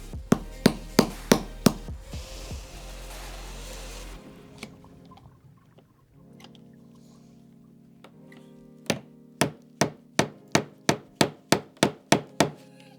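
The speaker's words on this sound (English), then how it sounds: "I have to drill a hole and then hammer it inside, and then it will work." Hammer blows drive something into a drilled hole in wood while installing cabinet doors, first a quick run of about eight sharp strikes, then a quieter gap with faint handling, then another steady series of about eleven ringing hits.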